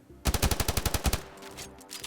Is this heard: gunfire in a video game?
yes